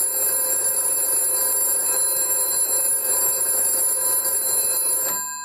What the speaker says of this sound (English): Pull back, and we can ring extension 3. It's manual ringing.